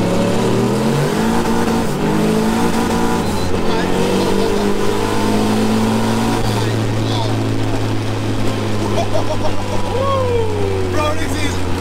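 A 1300 bhp built LS turbo Nissan 280Z accelerates hard, its engine droning loud and steady with rising pitch sweeps over the full clip, while voices talk throughout.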